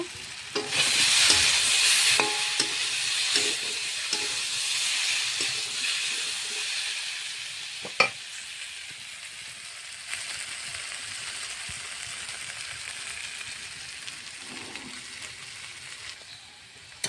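Taro pieces fry and get stirred in a pan, with a steady sizzle, a scraping spatula through the first seconds and occasional clinks against the pan, no voices.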